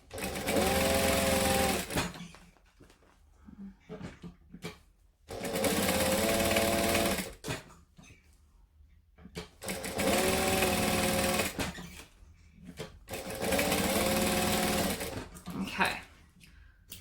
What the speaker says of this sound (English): You can notice I'm chain stitching them, so I'm not separating them yet